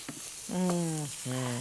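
Food is stirred as it fries in a pan. Short squeaky scraping strokes sound over a soft sizzle, close up and with no talking.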